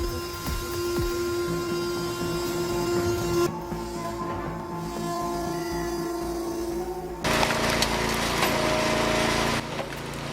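Custom-engineered hydraulic kindling splitter cutting logs into kindling, a steady mechanical whine and hum with tonal machine drone, shifting in character as it works, with a louder, harsher stretch toward the end.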